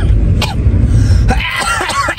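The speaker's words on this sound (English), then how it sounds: "Cough again" One sharp cough bursts out, then a second rougher one follows about a second later, close and loud over a low rumbling background.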